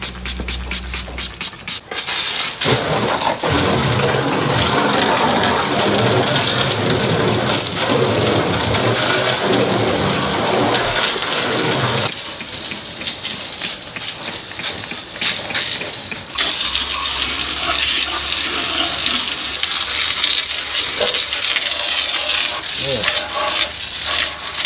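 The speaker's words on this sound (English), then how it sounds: "I'll turn the water on." Steady, loud rush of running water, like a hose or tap at full flow, continuing throughout with slight changes in tone.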